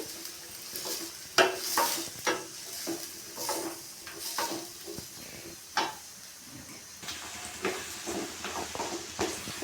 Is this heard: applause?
no